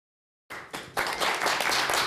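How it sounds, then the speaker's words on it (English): Applause breaks out in a city council chamber, starting from silence with a few scattered claps that quickly swell into steady clapping from a group, fairly soft and without talk. "There's clapping happening from the chambers and also clapping happening here."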